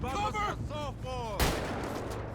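A single loud gunshot cracks in a GTA V police-mod shootout, a sharp burst standing out after some earlier tonal game sounds, with no talk over it.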